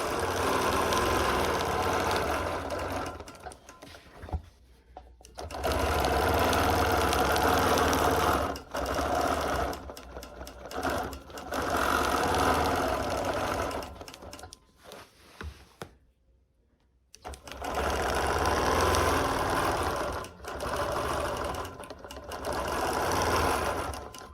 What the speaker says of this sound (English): so you can actually use that as another way of lining up your spacer when you're sewing.